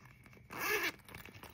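A zipper on the pocket of an embroidered two-in-one sewing case with a magnet closure is pulled in one quick, close stroke lasting under half a second, heard alone against a quiet room.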